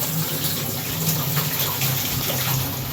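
Hands are washed under a running tap, a steady close gush of water splashing continuously with no talking.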